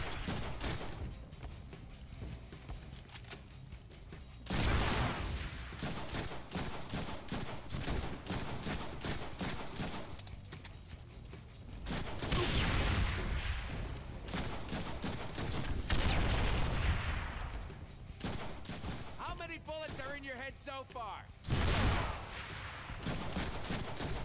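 Sustained gunfire in the PC game Deadpool: rapid bursts and volleys of shots run almost continuously over a busy game soundscape, with a few heavier impacts standing out.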